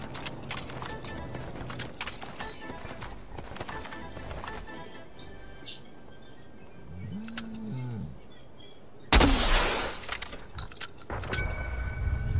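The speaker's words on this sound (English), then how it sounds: "Let me just shoot this flare." A flare gun fires in a survival video game, a sudden loud whooshing burst that flares up after a stretch of quiet rustling and ambient game noise, then hisses on as it fades slightly.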